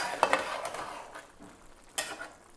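A spoon stirs chicken pulao rice in a pot over low heat, giving a few soft scraping and clinking strokes, close and fairly quiet, with no one talking.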